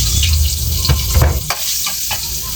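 Sliced onions sizzle and crackle in hot frying oil, already used to fry tofu, as they are stirred in a pan, loud and close, with scraping stir sounds.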